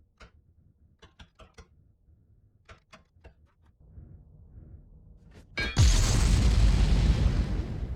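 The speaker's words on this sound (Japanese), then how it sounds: "爆発範囲の調査に戻りましょう。" Sparse mechanical clicks and clanks build toward a sudden loud explosion in the space-building game Starbase, followed by a sustained roaring rumble of debris and fire.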